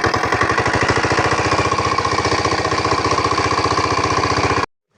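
A small shallow pump engine drains a pond, chugging in a loud, fast, steady rhythm close by before cutting off abruptly near the end.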